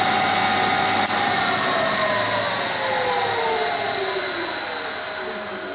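A machine motor driven by a variable frequency drive starts from a forward/reverse drum switch, its steady whine and hum holding loud and continuous with a brief click near the start and tones gliding downward as it runs.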